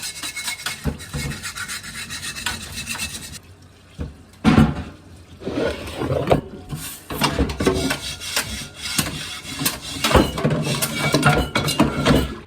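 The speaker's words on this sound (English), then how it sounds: "We're just gonna run it under some hot water and just kind of Use our scrubber here to clean this lid" A cast iron lid is scrubbed under running hot tap water, with raspy rubbing strokes and occasional clinks, near and fairly loud, pausing briefly midway before resuming, with no talk.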